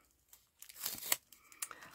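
Washi tape being ripped to seal a handmade card: a short run of close, crisp tearing and crinkling bursts lasting about a second, with a smaller rip following.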